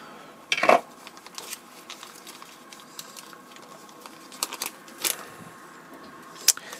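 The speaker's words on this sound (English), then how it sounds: "Take the lid off." A cardboard lid comes off a Roco model train box: a scrape and rustle of cardboard, a few light taps and bumps, and a sharp tick near the end, close and quiet overall.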